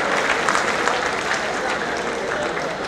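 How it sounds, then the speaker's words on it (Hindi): Audience applause filling a large pavilion at a Uttar Pradesh Day state event, dense sustained clapping from many hands at steady loudness, close and continuous for the whole stretch. "पूरे पंडाल से उठ जाएं तालियां"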